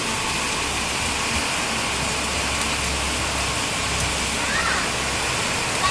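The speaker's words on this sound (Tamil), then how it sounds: "பாருங்கள் மழை பாருங்கள் எப்படி பெய்யுதுன்ட்டு. சரியான மழை." Heavy evening rain pours down outside in a steady, unbroken hiss, with a faint low rumble underneath.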